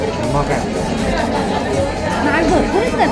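Crowd chatter fills a busy, famous restaurant: steady dense babble of many diners close around, loud and continuous, with no single voice standing out.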